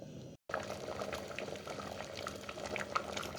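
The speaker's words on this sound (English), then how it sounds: "I want it to simmer down just a little bit more" Jamaican stew peas simmering in a covered pot, giving a steady low bubbling burble with small pops, continuous and fairly quiet after a brief dropout near the start.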